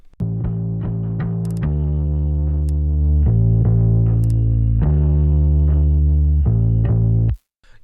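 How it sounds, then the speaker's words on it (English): Soloed bass track with a distortion effect, gritty sustained notes rising and falling in a steady, loud line, each note with a sharp plucked attack and a buzzy, overdriven tone. "you can hear that distortion in solo"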